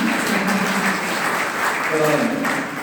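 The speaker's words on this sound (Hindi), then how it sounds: "तो आप सभी ताली बजाएं इसके लिए।" Audience applause at an Arya Samaj gathering in Gharaunda, a dense, steady clapping from a crowd lasting a few seconds, with voices talking over it.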